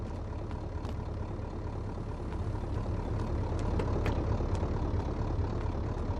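Ford F350 diesel ramp truck engine idling in a garage, a low steady rumbling clatter with faint ticking, even and continuous at moderate level.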